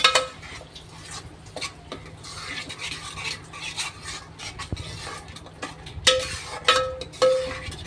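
A ground onion, coconut and garam masala paste is sautéed in a pan for crab masala. A spatula scrapes and stirs continuously against the metal over a soft sizzle, with louder clinks of the utensil near the end and no talking.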